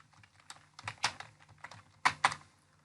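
Fingers type on a computer keyboard while entering an email address during a website sign-up, giving a sparse run of close, crisp key clicks with two sharper, louder strikes standing out.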